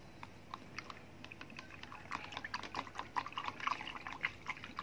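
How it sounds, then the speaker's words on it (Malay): Faint wet clicks and small splashes of feed being stirred into water for culturing Daphnia magna, irregular and quiet, growing slightly busier toward the end. "Kacau bagi dia sebati dengan air tu."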